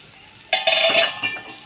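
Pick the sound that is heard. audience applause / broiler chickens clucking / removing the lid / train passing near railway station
removing the lid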